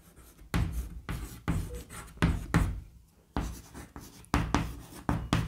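A pen scratches across paper in repeated bursts of writing strokes with short pauses between them, close and fairly clear, while a geometry problem about equal circles is worked out.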